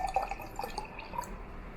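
Muscat grape drink with pieces of grape pours from a vending machine bottle into a cup, a faint, brief run of gurgling splashes and drips close by, with no voices.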